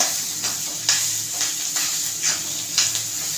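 Roasted bitter gourd with a pinch of turmeric is stirred in a pan, giving soft scraping strokes roughly every half second over a steady low sizzle and hiss.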